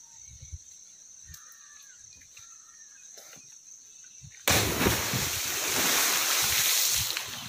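A boy jumps feet-first into a well with a sudden loud water splash, followed by a sustained rush and churn of water that follows quiet outdoor ambience.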